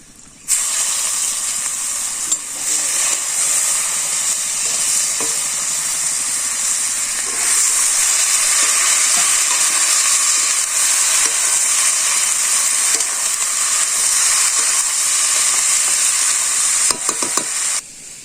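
A vegetarian curry of taro and jute leaves with panch phoron and black gram dal cooks in a pan in a village kitchen, giving a steady, loud hiss and sizzle that holds throughout with occasional stirring clinks.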